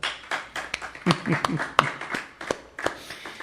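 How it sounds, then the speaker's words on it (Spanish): Scattered congregation clapping at a Spanish-language church service, a dozen or so sharp uneven claps close by with a voice speaking among them. "Eso merece un aplauso, ¿verdad?"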